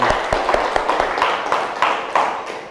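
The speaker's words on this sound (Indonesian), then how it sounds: "Tepuk tangan untuk Hanum" Students in a classroom give applause for Hanum, a brief burst of scattered, uneven hand claps that starts briskly and then thins out and fades.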